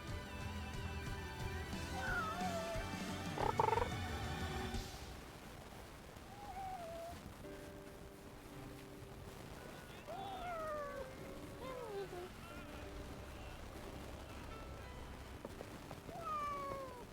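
A cat meows repeatedly, several rising and falling calls spread across the stretch, fairly close, with music playing softly in the background at first.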